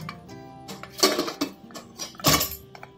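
A pressure cooker lid is fitted and locked shut over rice and water, giving two louder metallic clanks with lighter clicks and scrapes between them, close by and without talk.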